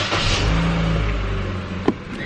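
A car engine rumbles steadily at close range with a low, even drone. Near the end a short click or knock breaks through.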